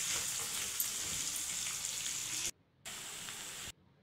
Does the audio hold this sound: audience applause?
no